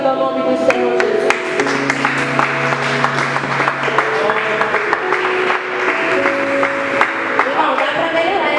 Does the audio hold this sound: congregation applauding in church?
yes